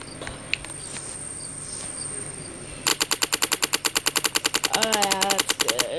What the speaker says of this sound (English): I don't like the shotgun. It's gonna do the trick.